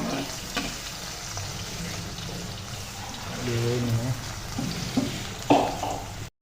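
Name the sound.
ginger frying in a pan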